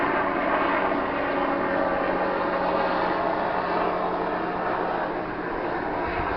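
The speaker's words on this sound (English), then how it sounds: "As the helicopter goes by" A helicopter flying past near a bike ramp: a steady, loud, broadband engine and rotor drone with a constant low hum, holding level throughout without a clear rise or fall.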